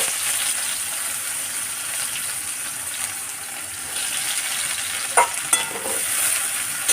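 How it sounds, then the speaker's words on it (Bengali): Chopped onion frying in darkened oil left from frying fish, a constant bright sizzle with a couple of short scraping stirs near the end. "এবার এই পেঁয়াজটাকে খুব লাল লাল করে ভেজে নেব"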